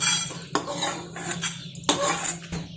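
Roasted cinnamon, cloves and fenugreek seeds are scraped out of a metal pan with a spoon, giving a few sharp clinks and clatters over a soft, continuous scraping rustle, fairly close, with no talking.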